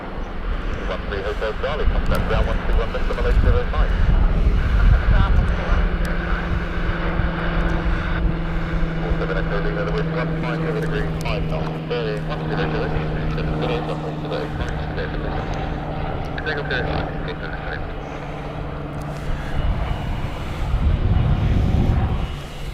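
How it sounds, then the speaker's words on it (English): A light aircraft flies past at Gatwick Airport, its engine drone loud and sustained throughout, with a voice talking over it. "oh hello, light aircraft"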